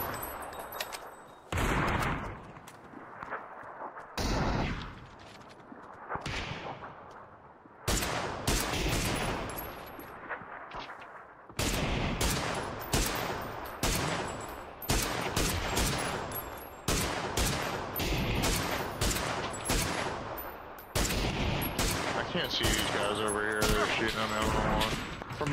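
Heavy gunfire in PUBG during a live stream, loud bursts and rapid volleys repeating across the stretch with brief lulls, close and sharp, while players talk over it.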